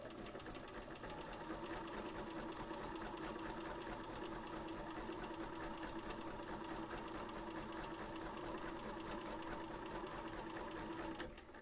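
A sewing machine runs steadily and continuously, stitching the lining edges of a Victorian skirt panel with an even mechanical whir that stops just at the end.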